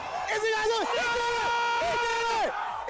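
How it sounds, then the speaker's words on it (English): A tournament crowd at a Super Smash Bros. event shouts and cheers in sustained bursts, with drawn-out whoops rising and falling over a dense hubbub of many voices. "The crowd is getting rowdy for Cosmos"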